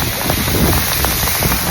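Water from a small waterfall in Manali pours steadily onto a Shiva idol at a temple, making a dense, continuous close-up splashing hiss with no pauses and no voices.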